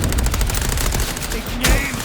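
Sustained rapid gunfire in the video game Vampire the Masquerade Bloodlines 2, a loud dense burst of shots with a sharp crack near the end.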